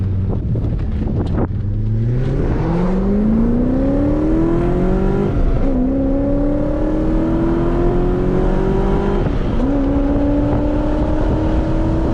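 A BMW E34 car pulling away and accelerating through the gears, its engine note climbing steadily in pitch, dropping briefly at each shift and climbing again, loud and close over road and wind noise.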